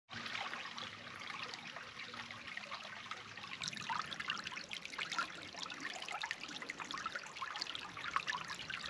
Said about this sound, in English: Just on the other side of this creek right here.